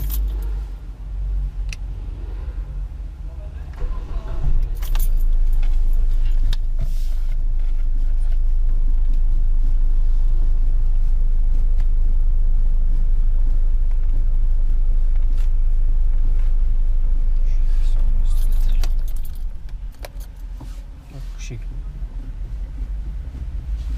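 A Hyundai Accent Blue engine idles in a garage as a steady low rumble with occasional clinks and voices over it; the car has a worn steering box.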